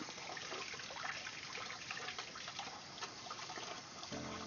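A kitchen tap runs steadily with warm water for rinsing while baking, a constant hiss of flowing water that stays close and even, with a slight change right at the end.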